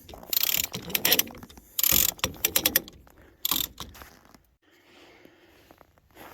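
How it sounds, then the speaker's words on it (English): A come-along ratchet pulls a chain wrapped around a wheel on a 1967 Highboy truck: bursts of loud, close clicking ratchet strokes, then quieter mechanical creaks. "we've got a chain wrapped around that thing and a come along here"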